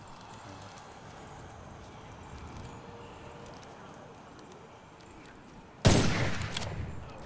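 Gunfire in the video game Witchfire: a quiet stretch of game ambience, then a sudden loud burst of shots that rings out and trails away, with a voice speaking over it.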